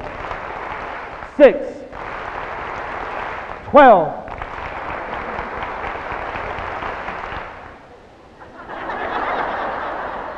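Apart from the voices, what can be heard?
audience clapping in rhythm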